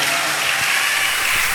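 A church service congregation applauds, a steady wash of many hands clapping together, loud and continuous with no pauses.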